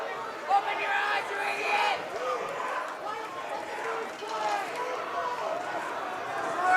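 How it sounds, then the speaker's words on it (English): Visiting fans at a high school boys basketball game, Viewmont at Highland, voicing displeasure over a referee's call, a loud, restless crowd roar with shouts and jeers, with a commentator talking over it. "Visiting crowd not happy with that call"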